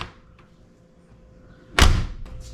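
A heavy SUV door swings shut in one loud, solid slam that lands after a quiet stretch, followed by a short latching click.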